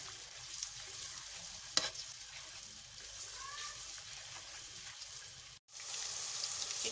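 Onions frying in a pan with garlic ginger paste for a green chicken karahi: a steady broadband sizzle fills the clip, with a brief stir or scrape near the start and a short break toward the end.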